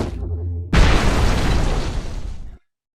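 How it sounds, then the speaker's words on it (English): A loud, close explosion in the video game Hyper Light Breaker bursts in suddenly after a low humming tone, then roars as a sustained rumbling blast before cutting off abruptly into silence. "Nice explosion too."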